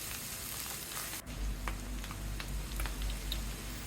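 Onion with added peppers frying in a pan, a steady crackling sizzle with scattered pops and a soft stirring thump partway through, heard up close and alone.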